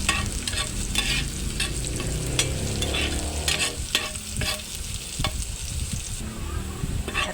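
Minced garlic and onion sauté in a pan, a steady close sizzle broken by repeated scrapes and clatters of stirring, with no voices.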